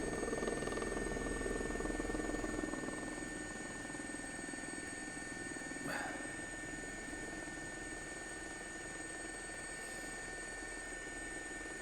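Helicopter flying over Windsor Castle near St George's Chapel, a steady rotor and engine drone heard from inside the cabin, loudest in the first few seconds and then holding level throughout.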